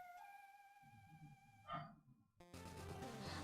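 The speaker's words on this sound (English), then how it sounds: "The dogs are barking." Dogs bark in a short burst, a couple of sharp yips and barks up close, then broader noise, with no talk over them.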